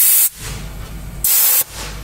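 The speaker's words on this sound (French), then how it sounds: "appuyez sur le bouton situé en dessous du filtre afin de le purger" Two loud bursts of compressed air hiss out as the purge button under a pneumatic air filter is pressed, each lasting under half a second, with quieter background noise between them.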